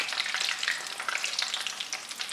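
Chicken cutlets sizzle and crackle steadily in a hot pan over medium-high heat, a dense, close frying hiss with small popping bursts throughout.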